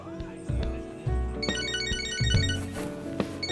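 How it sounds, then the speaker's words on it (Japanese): A mobile phone ringtone plays in the video game Catherine Full Body, a bright repeating melodic chime that rises over game music and low tones, with no speech. "電話か。"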